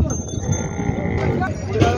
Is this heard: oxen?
yes